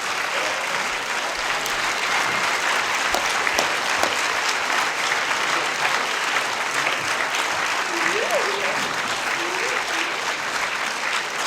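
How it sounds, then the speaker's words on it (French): An audience applauds steadily at a Swiss film premiere at a cinematheque, a dense, continuous clapping that stays loud and even throughout, with a brief faint voice or whistle near the end. "on peut les applaudir"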